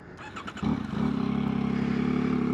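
A Yamaha XSR900 motorcycle fitted with a new exhaust idles close by after a brief start-up, settling into a deep, steady, throbbing rumble that holds loud and even to the end.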